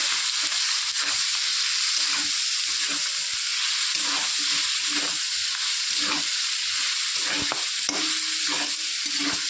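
Mustard paste frying in a pan with tengra fish, a steady loud sizzle running throughout while a spatula scrapes and stirs in repeated short strokes, with no talking.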